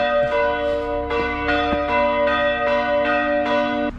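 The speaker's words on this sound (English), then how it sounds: "look, the bells are sounding for my arrival into the city." Church bells ring out over a city in Cyprus, a steady series of resonant strikes roughly every half second with long overlapping hum, loud and close with no talking.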